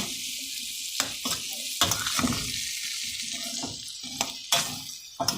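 Breakfast food fries in hot oil in a pan for a birthday brunch, with a steady crackling sizzle broken by occasional clinks and stirring knocks, close up.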